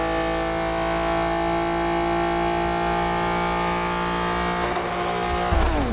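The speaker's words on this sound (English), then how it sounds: "Car sounds way too good." A 1000-horsepower car in a driving simulator: a sustained high-revving engine whine held at steady pitch for several seconds, then a sudden drop and shift near the end, loud and close with no talk.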